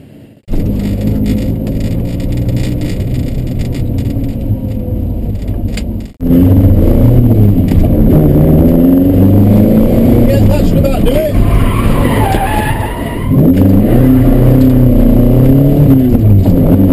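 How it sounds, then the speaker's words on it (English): A car engine starts up close by and revs repeatedly, the roar rising and falling loudly with occasional tire squeal. "fire it up, take it for a spin around the block."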